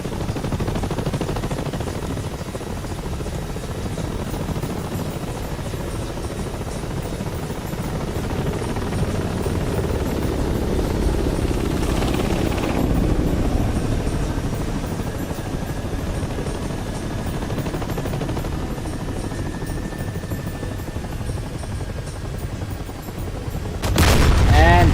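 Helicopters fighting a dogfight in the video game DCS World, a loud continuous rotor drone with rumbling gunfire mixed in and a sharp burst at the very end.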